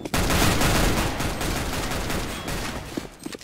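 Gunfire in CS:GO, a dense, loud burst of rapid automatic shots filling the moment, then fading into a few scattered reports.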